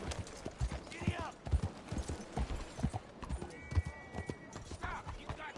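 Horse hooves clip-clopping at a steady galloping rhythm in the western video game Red Dead Redemption 2, close and loud, with a brief whinny and game sounds mixed in.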